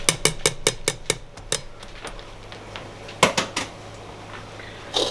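Hot blanched potato slices scooped from a pot into a bowl with a metal colander, giving a quick run of sharp metallic clinks and taps at the start, then a few more knocks later over a quiet kitchen background.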